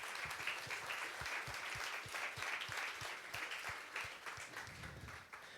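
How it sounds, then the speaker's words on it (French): An audience at a science and video game design conference claps for two award winners invited onstage, a steady burst of applause filling the room throughout. "Ils sont juste là et on les applaudit."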